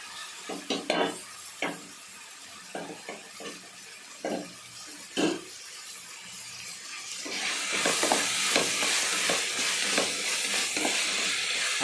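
Broad beans tipped into a simmering tomato curry in a pan, opening with a series of distinct clattering knocks and scrapes of stirring, then a steadier, louder sizzle and bubbling toward the end.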